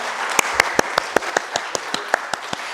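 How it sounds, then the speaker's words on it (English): Audience applause for Ishwinder after his talk, a thin scattering of claps from a small group, with a few sharp, nearby hand claps standing out in a loose, uneven rhythm. "Let's give him another round of applause"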